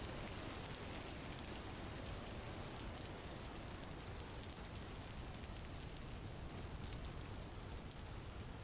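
Heavy rain in the video game Vintage Story falls in a steady, dense roar with no breaks, sounding like big drops pounding a surface, loud and constant throughout.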